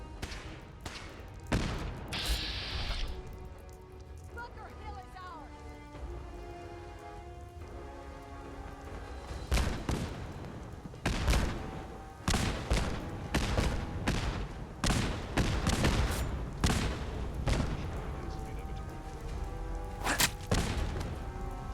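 Turret gunfire in Fallout 4, a series of loud sharp bursts and single shots spread irregularly across the clip, ringing over a steady crackling rain-like background, with no talking.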